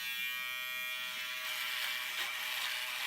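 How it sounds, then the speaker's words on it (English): A Braun Series 3 electric shaver in trimmer mode runs with a steady, close, high-pitched buzz for a few seconds, alone with no talking. "So that's your standard trimmer, isn't it?"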